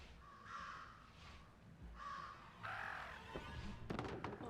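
Several crows caw in a murder of crows in the video game Jenny LeClue, harsh repeated calls in three bursts, moderately loud, followed by a brief thud and scattered taps near the end.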